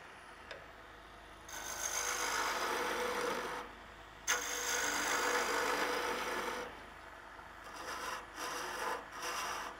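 A 13 mm spindle gouge cuts a rotating wooden spatula blank on a lathe, giving three long broadband scraping passes separated by short pauses, with steady motor hum underneath; close and fairly loud.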